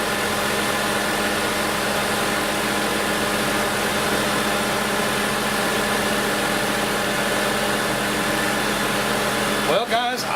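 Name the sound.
2008 Ford Escape running with AC compressor pump on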